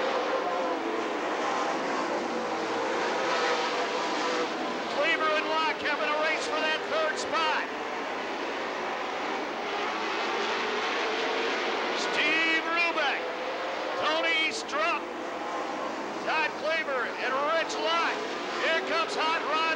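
Engines of race cars in a Mars Series dirt late model race roar steadily around the track, a continuous loud drone with rising and falling revs, heard under an announcer's ongoing commentary.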